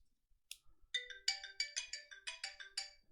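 A phone chimes with an SMS notification tone: a short high blip, then a quick rhythmic run of bright melodic beeps, clear and close in an otherwise quiet room.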